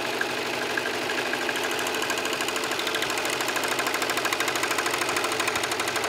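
A serger sews a chain stitch as a test before rolled hems, giving a steady, fast mechanical whir with an even rhythmic patter that runs unbroken and close for the whole stretch.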